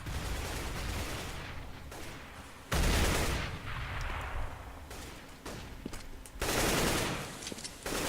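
Rapid, loud automatic gunfire bursts in a Counter-Strike: Global Offensive match on the Inferno map, with several sustained volleys separated by short pauses and overlapping shots, heard alone without talk.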